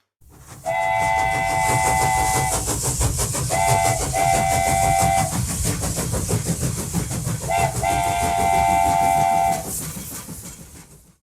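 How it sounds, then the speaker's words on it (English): A steam train chugs along with a rhythmic rumble while its whistle blows several long and short blasts, loud and close, before fading. "Running the train that night were a driver, a fireman and a guard, Will Ferry."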